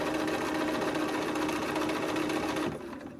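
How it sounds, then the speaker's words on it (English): Close, steady sewing machine stitching through pieced quilt fabric, its fast, even needle whir going without pause before slowing and quieting near the end. "and then I sew"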